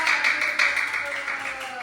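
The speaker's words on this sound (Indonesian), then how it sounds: "tepuk tangan ya buat kelompok siswa" Students in a grade 4 classroom clap for their fellow student group, a dense, steady round of applause from a small group of children close by.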